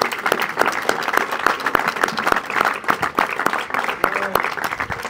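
Crowd applause at a political party's rentrée rally night in Portugal, dense and sustained clapping from a large audience filling the whole stretch, loud and close with occasional shouts mixed in.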